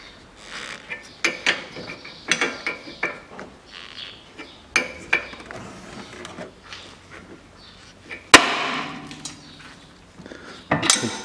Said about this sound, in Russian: Поставил я съемник и откручиваем сам наконечник здесь на кронштейне.